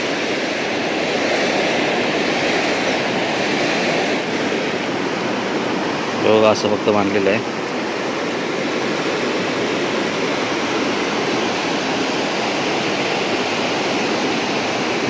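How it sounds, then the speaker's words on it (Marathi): Strong river current rushes past a broken check dam in monsoon flow, a loud, steady broadband roar filling the whole clip, with someone briefly speaking over it midway. "पाण्याचा प्रवाहसुद्धा बघा किती जोरदार आहे."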